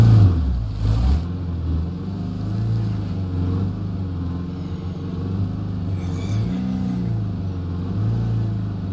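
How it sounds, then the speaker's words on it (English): A car engine starts and revs in the video game State of Decay 2 during a zombie encounter, a loud low rumble that rises in pitch and swells in a few surges, alone without talk. "As soon as I start the car, some zombies, they start to run."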